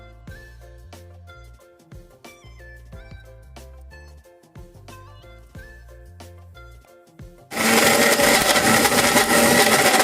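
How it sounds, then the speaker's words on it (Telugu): A mixer grinder blends red chilli pickle in its jar, cutting in loud and steady as a dense whirring roar for the last couple of seconds after a stretch of music. "నేను కొంచెం జార్లో వేసి మిక్సీ చేసేద్దామండి."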